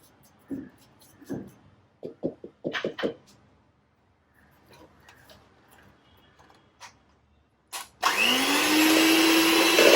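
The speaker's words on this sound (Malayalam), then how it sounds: "ആദ്യം ഈ ബട്ടറും പഞ്ചസാരയും കൂടി ബീറ്റ് ചെയ്തെടുക്കാം." After several taps and knocks in a kitchen, an electric mixer starts up loudly near the end and whirs steadily while beating butter and sugar for cookie dough, close and alone.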